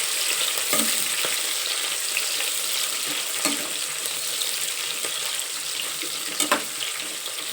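Onions frying in hot oil for a hotel-style vegetable pulao, a steady close bright sizzle with occasional stirring clicks and scrapes, continuous throughout with no talking.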